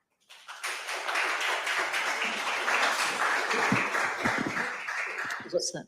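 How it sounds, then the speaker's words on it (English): Steady applause fills a legislative chamber, the Delaware Senate, many hands clapping together for several seconds before stopping abruptly. "that was the third time we've had applause"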